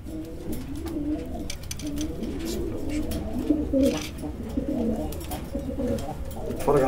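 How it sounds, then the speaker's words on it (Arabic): Pigeons coo steadily in a loft, several birds overlapping in low, rolling burbles that continue without pause at moderate loudness, with no voices among them. "نتفرج على بقية الحمام مع بعض."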